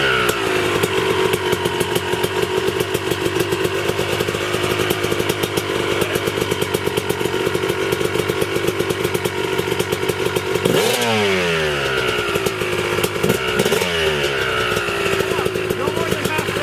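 A Yamaha YZ250 two-stroke dirt bike engine running during break-in, a loud, steady, buzzy idle close by that climbs into a few rising revs toward the end, with talking under the engine.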